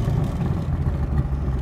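Brief, close burst of a 1965 Backdraft Roadster RT4 engine revving, a throaty, slightly uneven roar with a faint clatter, no talking over it.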